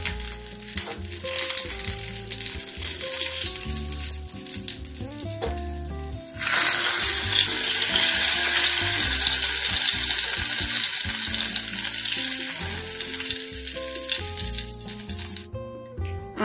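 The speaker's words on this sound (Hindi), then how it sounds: "परवल हमारा एक एक तरफ से फ्राई हो चुका है और हम इसे पलट दिए हैं और दूसरे तरफ से भी हम इसे सेक लेते हैं" Stuffed parwal (pointed gourd) frying in a kadai, a steady loud sizzle throughout that swells sharply partway as the pieces are turned, with music playing underneath and no talk.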